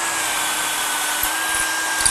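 A long aircraft drill bores through hardened bushings in a door jig, giving a steady, loud, high-pitched whine that runs continuously throughout with no talking.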